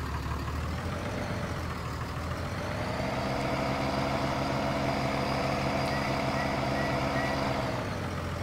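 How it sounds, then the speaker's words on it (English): A Cummins-engined second-generation Dodge Ram truck tows a gooseneck trailer in Farming Simulator 19, its diesel drone steady and loud throughout, deepening and settling into a heavier rumble after a few seconds. "Let's see how the Cummins handles this trailer here."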